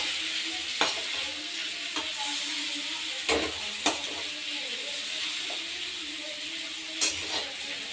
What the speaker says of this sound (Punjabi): ਹੁਣ ਅਸੀਂ ਗੋਭੀ ਆਲੂ ਗੋਭੀ ਦੋਨੋਂ ਹੀ ਪਾ ਦਾਂਗੇ ਇਹਦੇ ਵਿੱਚ ਤੇ ਮਿਕਸ ਕਰ ਦਾਂਗੇ